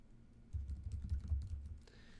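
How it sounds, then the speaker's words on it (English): Quick burst of keystrokes on a computer keyboard while entering a web address, a short muffled run of close clicks over low hum. "you just type in the URL"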